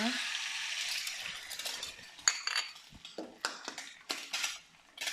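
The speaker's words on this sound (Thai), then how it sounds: "เสร็จแล้วไข่ลงไปเลยนะคะ" A steady hiss of an egg frying in a hot pan, with a spatula scraping and clinking against the metal.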